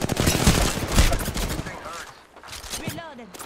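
Rapid bursts of gunfire in Apex Legends, loud and close at first, then thinning out as voices and game chatter come through.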